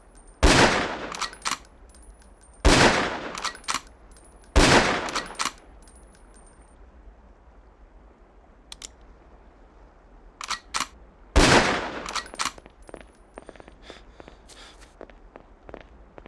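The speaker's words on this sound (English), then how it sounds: "The sniper rifle is equipped with a scope for long-range shots." Sniper rifle shots fired at long-range targets in the Ghost Recon video game: four loud, sharp cracks spaced a couple of seconds apart, with faint clicks and handling noise between them.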